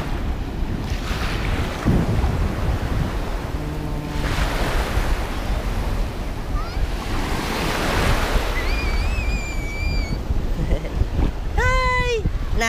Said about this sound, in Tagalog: medyo lumaki yung alon mga guys.